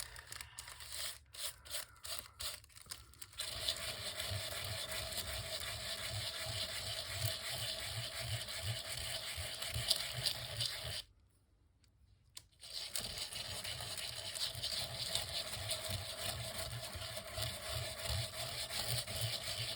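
A sandpaper disc sands a surface with a continuous, close, rough rubbing grind and fast rhythmic strokes, broken by a short pause partway through before resuming steadily.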